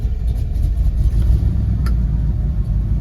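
A 1979 Ford F350 with a carbureted engine idles after an idle-screw adjustment, a steady low rumble with even, close mechanical pulsing and no talk over it.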